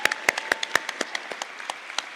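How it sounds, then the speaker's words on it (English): An audience at a national finals event claps for the judges in a short, fairly sparse burst of distinct handclaps, close and loud. "A round of applause for our judges,"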